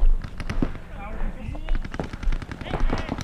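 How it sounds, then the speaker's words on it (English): Paintball markers firing during a speedball match, heard as rapid, crackling bursts of sharp pops in quick succession, close and loud, with voices faintly mixed in. "They were shooting extra paint towards our pits in an attempt to land a few extra shots to the players walking off the field."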